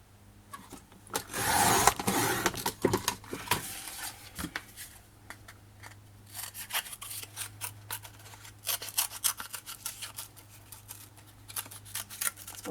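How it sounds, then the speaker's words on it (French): Scissors cutting thin cardboard for a scrapbooking project, heard close up as a long series of crisp snips and rustling rubs, with a dense burst early on and then irregular separate cuts. "C'est pas facile à couper de la cartonnette"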